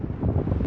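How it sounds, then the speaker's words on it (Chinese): Strong wind roars in a snowstorm on a remote highway in Hoh Xil, a steady, dense gusting rush close to the microphone with no other sounds. "大风天气。"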